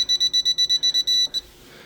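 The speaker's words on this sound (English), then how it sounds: "My meter's beeping on my AC line." A meter on an AC line gives a quick, loud run of about ten evenly spaced electronic beeps, then one longer held tone and a short final blip before it stops.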